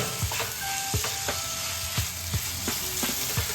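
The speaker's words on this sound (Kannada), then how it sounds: "ಈರುಳ್ಳಿ ಮಿಕ್ಸ್ ಮಾಡ್ತಾ ಟೊಮೊಟೊನ ಆ್ಯಡ್ ಮಾಡ್ತಾ ಇದ್ದೀನಿ. ಚೆನ್ನಾಗಿ ಫ್ರೈ ಮಾಡ್ತಾ." Onion and tomato frying in a pan, a continuous close sizzle with regular scraping strokes of a spoon stirring about every half second.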